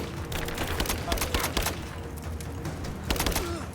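Gunfire in the video game Rise of the Tomb Raider, bursts of rapid shots and sharp single cracks spread across the clip, loud and close amid game combat noise.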